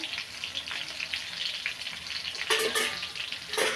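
Chicken pakoras frying in hot oil over a medium flame, with a steady close sizzle throughout and a couple of louder bursts of crackling near the end. No voices.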